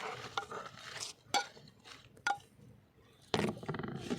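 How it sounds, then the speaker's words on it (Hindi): Spinach leaves go into a salad bowl for a spinach and peach salad, with soft rustling, a few light clinks of utensils against the bowl and brief scraping, all close and fairly quiet. "अब हम इसमें पालक डालेंगे"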